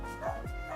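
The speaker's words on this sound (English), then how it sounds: "sorry if you hear my dog barking" A pet dog barking after a knock at the door, giving a couple of short, muffled woofs from a nearby room, brief and moderately loud.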